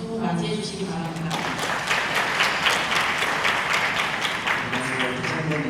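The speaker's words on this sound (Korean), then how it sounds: "큰 박수로 맞이해 주시기 바랍니다." Loud applause from a seated audience at a Korean university admissions information event, a dense, steady wash of clapping filling the room for several seconds as a speaker is welcomed.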